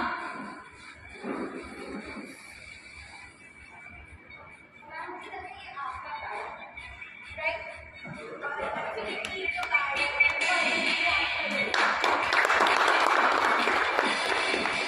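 An audience at a mind-reading magic show claps, starting faintly under someone speaking and swelling into loud, dense applause over the last few seconds.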